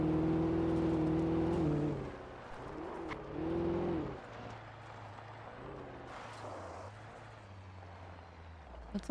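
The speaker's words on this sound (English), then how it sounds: "That's like an army vehicle." An army truck engine in a video game growls and revs loudly for a few seconds, dips, revs again, then settles into a lower steady idle rumble.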